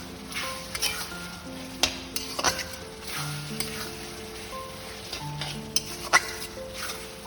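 Chowmein vegetables stir-frying in a pan: a quiet, continuous sizzle punctuated by irregular clinks and scrapes of a spatula against the metal.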